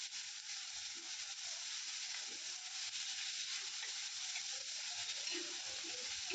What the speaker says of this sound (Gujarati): ડુંગળીને પણ ગોલ્ડન બ્રાઉન થાય ત્યાં સુધી આપણે સાતરી લઈશું.